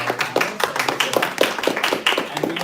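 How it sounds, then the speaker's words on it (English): An audience applauds panelists at the close of a panel discussion, dense steady clapping from many hands filling the room without a break. "please join me in applauding our"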